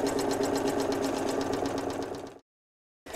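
A sewing machine stitches a bold outline around fabric hearts on a Christmas cone advent calendar, its close, rapid rhythmic needle chatter running steadily for over two seconds before stopping abruptly, then briefly resuming.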